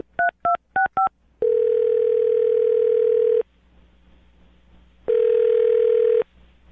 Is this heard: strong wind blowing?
no